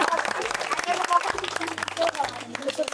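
A small audience claps through a lively food challenge at a football goal event. The applause is steady and moderate, and a host keeps talking over it.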